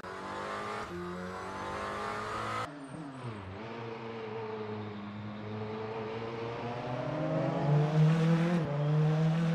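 A Lamborghini hypercar in a racing simulator game, its engine climbing through gears with rising whines and quick shift breaks, accelerating hard down a straight, loud and steady.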